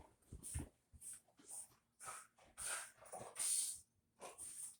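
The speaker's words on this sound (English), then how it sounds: "the dog's freaking out because he's here" A dog whimpers excitedly in a home kitchen, giving a string of short, faint whines and snuffling breaths in uneven bursts with brief pauses between them.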